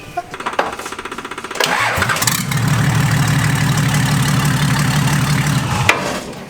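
A Nissan GQ Patrol's TD42 diesel engine cranks with rapid chugging, catches, and settles into a loud, steady, tractor-like low idle for several seconds before cutting off.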